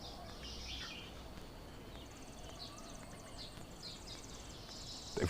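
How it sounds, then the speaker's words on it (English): Faint birds chirp in short high tweets against a quiet outdoor background, with a brief louder knock right at the end. "There's a lot of bird activity going on around me"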